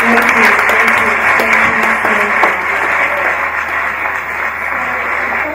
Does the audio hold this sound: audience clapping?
yes